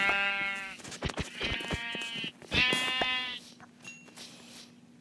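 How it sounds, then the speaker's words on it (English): Sheep bleating in the video game Minecraft, several loud, close, wavering bleats in quick succession, then a fainter call and short thuds as the sound trails off. "I'm going to kill these sheep"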